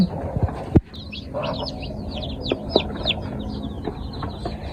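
Chicks chirp and peep in a busy high-pitched cluster, with a hen clucking low beneath them and a few sharp knocks early on, all heard close up in a homemade chick house.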